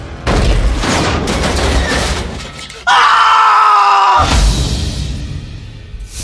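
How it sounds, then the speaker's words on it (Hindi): Radio drama effect of a wardrobe toppling and crashing down, a loud splintering rumble followed by an abrupt high scream that cuts out, then more crashing debris, dense and close. "उस अलमारी के अपने ऊपर गिरने से पहले वहां से हट नहीं पाया।"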